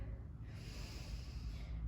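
Steady breath drawn in through the nose during a high-intensity pilates workout with hand weights, a close, soft airy rush lasting a couple of seconds.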